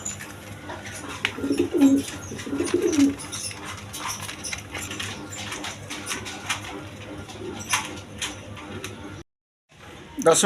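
Pigeons, including a pair of Iranian Barhuma fantails kept for sale, coo in low soft rolling calls near the start amid a busy background, with someone talking throughout and a brief dropout near the end.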